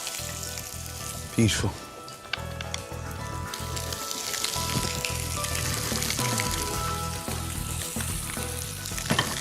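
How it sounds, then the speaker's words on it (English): Fish coated in peanuts and chili sears in a hot pan with a loud, steady sizzle, broken by a few sharp clatters of the pan; someone says a brief word over it. "we need to sear it in and get it nice and crisp"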